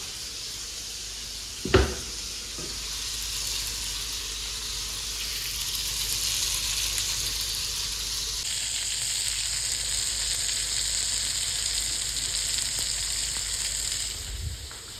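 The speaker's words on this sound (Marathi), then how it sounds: "मच्छीचा किरकिर आवाज" Soft, steady sizzling of fish frying in oil in a kadai, with a couple of brief clatters near the start and end; no voices.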